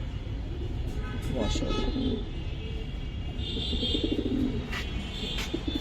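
Caged pigeons coo softly under steady background noise, while people talk nearby throughout.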